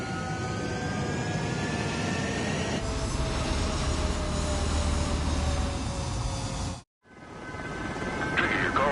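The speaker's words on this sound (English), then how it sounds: "Mage 2, clear for takeoff." A fighter jet's engine roars steadily on a runway in a combat flight video game, a loud continuous whine and rumble that briefly cuts out and then resumes.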